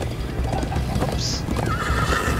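In the video game Minecraft Story Mode, a horse gallops with quick clip-clopping hooves while a sharp whinny rises in the middle, all under a steady game soundtrack.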